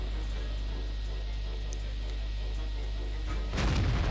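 A JagdPzIV tank destroyer fires its cannon in World of Tanks, a single heavy boom that bursts in near the end over a steady low engine drone.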